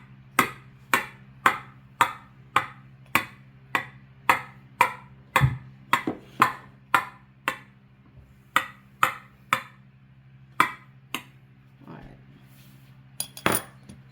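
Meat thermometer poking holes in a warm honey bun cake, a long series of sharp, regular taps against the pan, close and clear, thinning out toward the end.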